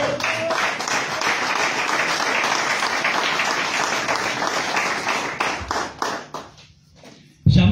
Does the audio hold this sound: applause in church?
yes